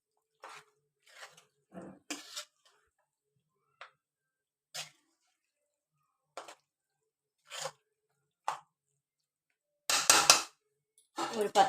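A spoon stirs chicken curry with potato in a cooking pot, producing scattered metallic clinks and scrapes separated by quiet gaps, with a louder clattering burst near the end.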